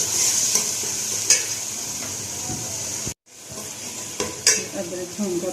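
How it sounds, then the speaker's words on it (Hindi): Ginger-garlic paste frying for kadhi pakora, a loud steady hissing sizzle close by, broken by several scraping stirs and a momentary drop to near silence midway. "तो अब इसको थोड़ा सा हम 2 मिनट इसको भी भून लेते हैं।"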